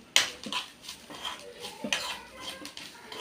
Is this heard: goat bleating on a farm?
no